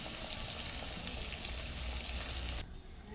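Onions sizzle and fry steadily in hot oil in a pan for a few seconds, a close, even crackle that suddenly drops to a quieter hiss near the end, with no talking.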